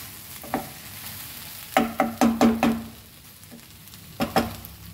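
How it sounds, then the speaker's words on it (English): Okra frying in a pan for a Goan okra and kokum amsol, a soft background sizzle broken by a quick run of clattering stirring knocks and a few later scrapes, with no talk. "So if any little bit stickiness is there, that will go if you fry this way."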